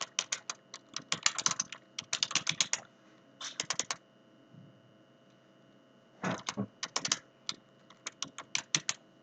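Bursts of rapid keystrokes on a computer keyboard, close and crisp, come in several quick runs with short pauses between them as a comment is typed.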